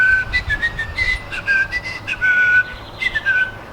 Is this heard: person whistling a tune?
yes